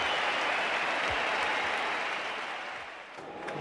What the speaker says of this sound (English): Listen to the crowd. They're loving this tail wagging here at the Sydney Cricket Ground.